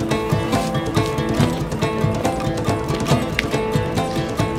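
Horse hooves clop steadily and loudly on the ground, dense and continuous as if several horses are moving at once, with no talk over them.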